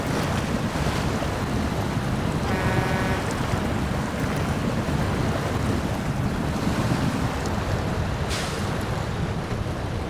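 A truck in the off-road game SnowRunner ploughs straight through water, a steady rushing wash of splashing and churning with engine rumble underneath, continuous and loud throughout with no talking.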